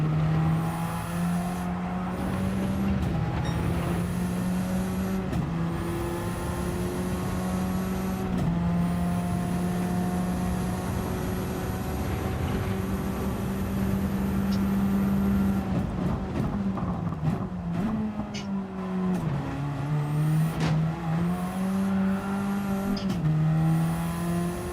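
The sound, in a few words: race car engines from a racing video game, final lap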